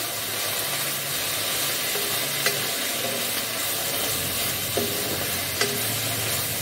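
Leafy greens fry in a pan with fried puthi fish, a steady close sizzle and hiss as water cooks off, punctuated by a few soft scrapes of stirring.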